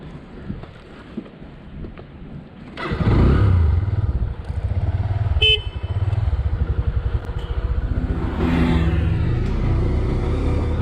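A motorcycle parked on a road trip in northern Pakistan between Naran and Abbottabad starts up with a loud burst, then idles and revs in a steady throbbing pulse, close by with some wind noise.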